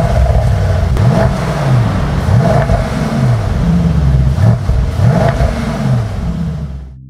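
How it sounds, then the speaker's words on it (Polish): A Mercedes-AMG E 63 S 4MATIC+ engine revs hard and close, its loud, rough exhaust rising and falling in repeated blips for about seven seconds before cutting off. "Ma brutalną barwę dźwięku silnika"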